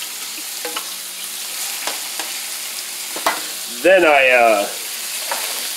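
Ground pork fries in a pan with a loud steady sizzle and scattered utensil taps and scrapes, while someone talks briefly midway.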